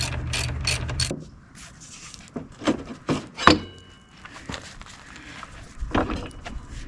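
A ratchet wrench clicks rapidly while loosening nuts on a motorcycle front wheel axle, with short bursts of pawl clicking and a few scattered metallic knocks and handling sounds close by.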